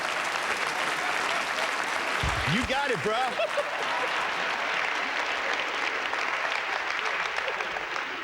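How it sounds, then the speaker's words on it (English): Steady audience applause after a magic trick at a magic awards show, a continuous wash of clapping with a voice briefly speaking over it. "Please give him a big round of applause."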